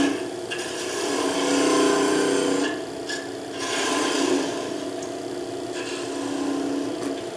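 A freshly sharpened skew chisel cuts wood on a lathe while turning a hollow Christmas ornament, a close, steady rasping scrape in long passes separated by short pauses.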